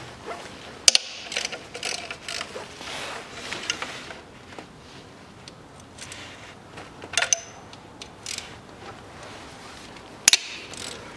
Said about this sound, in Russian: Откручиваем по периметру все болты